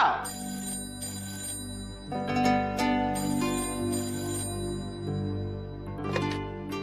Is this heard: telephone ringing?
yes